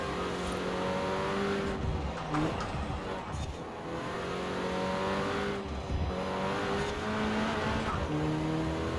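A 2018 Renault Megane R.S. in Forza Horizon 4, played on a Thrustmaster wheel, revs loudly and steadily through its gears, with rising engine tones and brief tire squeal between shifts.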